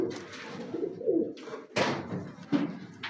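Kalu Baloch breed pigeons coo in repeated soft, throaty bursts close by, with a few brief knocks and rustles between the calls.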